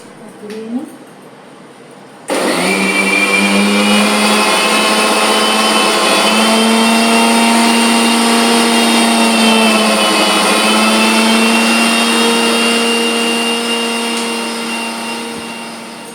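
A blender churns Gondhoraj lemon lassi (ghol), starting abruptly with a loud, steady high whirring motor that holds for over ten seconds before gradually easing off; brief faint sounds come before it starts.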